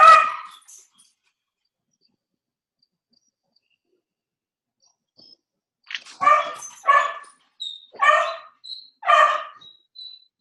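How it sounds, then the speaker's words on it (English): Dogs bark indoors: one bark at the start, a long quiet gap, then a run of four or five sharp, evenly spaced barks close by, with no talking. "Those are just my dogs."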